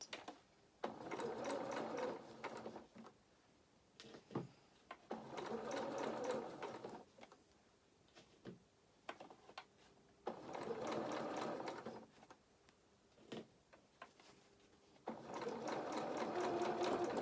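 A sewing machine stitches a fox head doll in several bursts of steady mechanical whirring, separated by short pauses and small clicks, close and moderately quiet with no talk.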